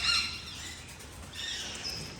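Green male and red-and-blue female Eclectus parrots, large birds perched near a roof, give two bursts of bright, harsh calls, the first louder and nearby, the second slightly softer after a short pause.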